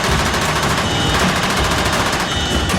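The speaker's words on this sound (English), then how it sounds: "the Chinooks fire their guns as the landing" Chinook helicopter door guns fire rapid sustained bursts on a landing approach in Afghanistan, a dense continuous loud rattle of automatic gunfire blended with rotor and engine roar throughout.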